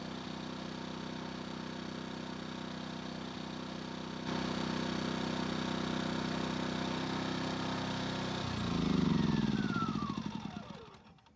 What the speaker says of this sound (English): let the generator burn whatever is left of the propane in the line